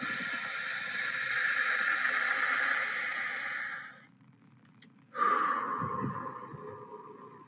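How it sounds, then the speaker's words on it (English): A person takes a long, deep, airy breath in during a guided breathing exercise. After a short quiet pause, a second strong breath begins, close and clear with no talking. "Nice deep inhale."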